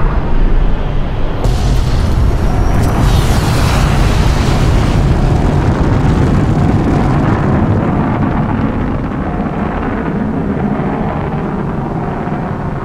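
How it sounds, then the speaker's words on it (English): A missile launches and explodes in Fallout: New Vegas with a loud, sustained roaring boom. Deep rumbling fills the whole stretch and slowly tapers off without dying away, and no one speaks. "Oh, we're launching a missile."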